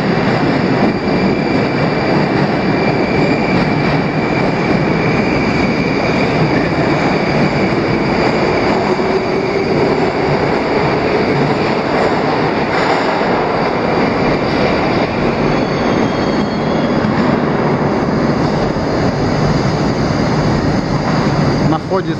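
A Moscow Metro train at Novogireyevo station on the Kalininskaya line gives a loud, continuous roar and rumble that fills the station for the whole stretch.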